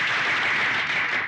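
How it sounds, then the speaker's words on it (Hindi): Steady, dense applause from a club audience at a ladies' gathering, continuous and fairly loud with no voices rising above it. "तालियां"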